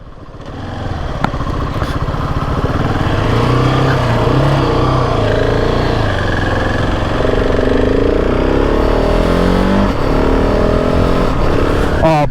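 A 2024 Ducati Hypermotard 698 Mono or 2023 GasGas 700 SM motorcycle engine accelerating with quick-shifter gear changes, rising and dropping in pitch through several shifts, loud and close under wind noise.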